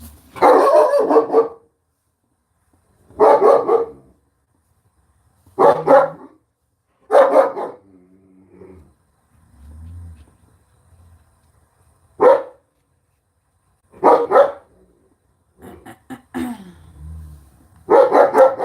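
Dogs bark from inside a house at a car parking out front, loud short bursts of several barks each, repeated at intervals of a few seconds with quieter whimpers and low grumbles between.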